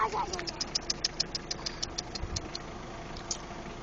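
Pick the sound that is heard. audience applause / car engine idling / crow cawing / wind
car engine idling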